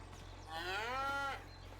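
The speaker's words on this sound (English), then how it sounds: "Yeah, we got the cows." A cow in a farming video game lets out a single long, drawn-out moo that rises and falls over about a second, clear and close over a steady low game hum.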